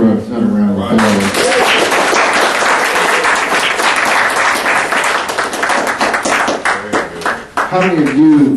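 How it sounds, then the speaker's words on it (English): Audience applause at a young entrepreneurs' seminar swells after a brief opening voice, a dense, loud wash of many clapping hands sustained for several seconds before thinning near the end as a voice returns. "Let's give her another round of applause."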